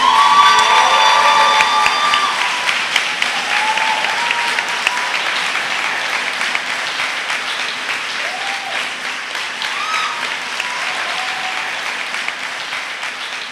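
Sustained applause from a large crowd at a school awards gala, loud at first and gradually easing, with scattered cheers and a few high voices calling out over the clapping.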